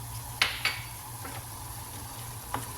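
A seasoned lasagna filling being stirred in a pan, with a few faint scraping clinks of a utensil over a quiet, steady background hum and low sizzle.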